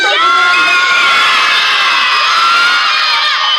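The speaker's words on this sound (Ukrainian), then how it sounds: "хто найголосніше кричить?" A crowd of children shouts loudly at an indoor or outdoor fire-safety event, a dense sustained roar of high voices and cheering that fills the whole stretch without pause.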